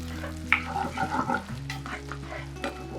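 Dried red chillies and curry leaves frying in hot oil as a Kerala tempering, a close sizzle with a clatter of stirring near the start and continuous crackling throughout, no voices.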